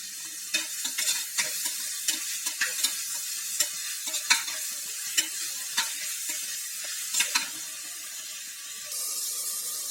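Mixed vegetables for pulao sauté in a pan with a steady sizzle, while a spoon scrapes and stirs in a regular rhythm of sharp clicks close by, with no voices.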